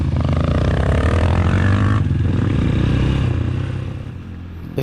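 A Crossmax 250 or Hero Xpulse 200 dual-sport motorcycle rides a mountain route to Chínipas, Chihuahua, its engine droning steadily and loudly close by, easing off slightly toward the end amid wind noise.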